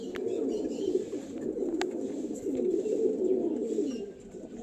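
Pigeons, including a female of a pair, coo steadily in a soft continuous murmur close by, with no voices over it.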